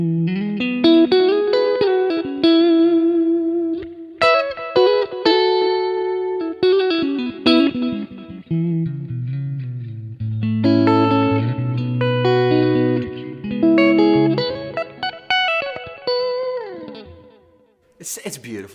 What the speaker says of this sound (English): It's actually the 65 Twin Reverb VB1 profile, which is in the 65 Twin Reverb pack